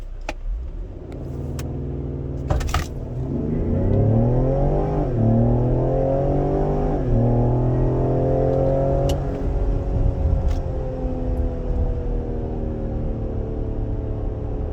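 A 2020 Ford Explorer ST on its stock exhaust accelerates hard from 0 to 60 mph. The loud engine rises in pitch through several gears with brief dips at the shifts, then settles into a steady high drone.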